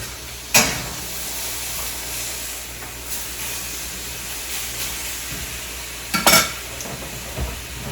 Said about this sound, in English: And then I have to go give my meat a stir.